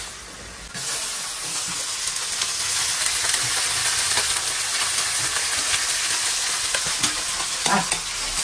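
Onion and tomato frying and sizzling in a pan, with a steady close hiss and occasional stirring scrapes throughout, no voices.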